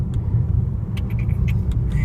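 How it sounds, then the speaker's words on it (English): A car cruising along a road on a Sunday, heard from inside as a steady low rumble of engine and road noise, with a few faint clicks and higher ticks over it and no talking. "I love driving on a Sunday."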